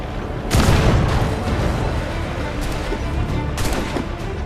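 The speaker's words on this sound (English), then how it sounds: "the swivel gun is very efficient" Swivel gun fire during a ship boarding in Assassin's Creed IV Black Flag: two heavy booming blasts about three seconds apart, set against a dense background of battle noise and crackling gunfire.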